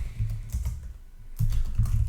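Rapid typing on a computer keyboard while coding, with a steady run of close, soft key clicks that pause briefly and then pick up again, alone without speech.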